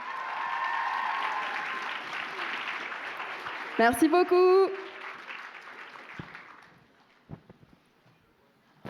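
Audience applause after a cosplay performance contest at the Japan Impact convention: loud, dense clapping that holds steady for several seconds, then thins out and fades into scattered claps, with a brief spoken thanks in the middle.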